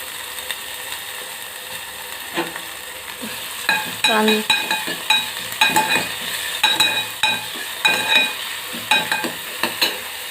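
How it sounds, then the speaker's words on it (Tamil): Chopped garlic and onion sizzling in hot oil in a pan, with a steady fry hiss and repeated scraping, rattling stirs growing busier partway through. "5-6 பல் பூண்டு பொடிசாக கட் பண்ணி வச்சுருக்கேன். அதை போட்டுடலாங்க எண்ணெயில்."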